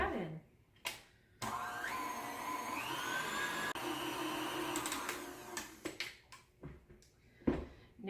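Electric mixer whirring through cookie dough for peanut butter chocolate chip cookies, a steady motor hum lasting a few seconds, with pitch shifting as it works, mixed with nearby bumps and clatter.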